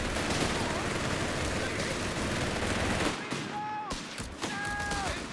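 Machine-gun and rifle fire in the strategy game Company of Heroes 3 on the Steppes map, a steady dense rattle of gunfire and battle noise throughout, with a couple of brief tonal whistles near the end and a caster's voice faintly in the mix.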